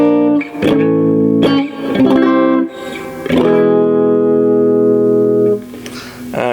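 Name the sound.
electric guitar on bridge humbucker pickup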